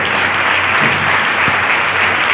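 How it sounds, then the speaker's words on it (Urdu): A church congregation claps loudly and steadily in worship, a dense, continuous wash of applause filling the room without pause. "آئیے زوردار تالیاں سے کریں."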